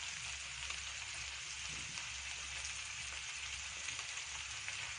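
Small pieces of mutton frying in a pan, a soft, continuous sizzle and crackle heard at low volume with no talking.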